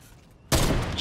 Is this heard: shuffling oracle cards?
no